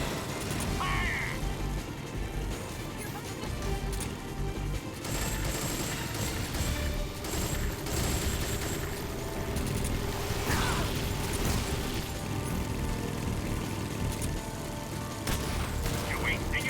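Soldiers firing guns in the video game Metal Gear Solid 3, dense continuous gunfire and crashing impacts filling the scene, with voices calling out over the shooting.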